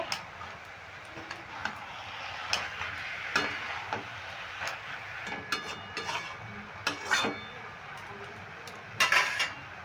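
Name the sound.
spinach and khesari greens being stirred in a pan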